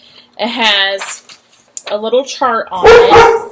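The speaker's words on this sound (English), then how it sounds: "Excuse the dogs, they're crazy today." Dogs bark in a condo home, a loud close burst near the end after a few yips, mixed in with a person talking.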